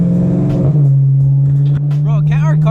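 BMW E92 M3 engine driven on snowy roads in a storm: a loud, sustained mid-pitched engine drone holding steady, with a brief dip, close and dominant, with a voice talking briefly near the end.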